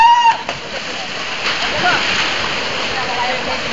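A river at a village canal spillway rushes and splashes, a loud steady roar of flowing water, close by with a brief whistle-like sound at the start.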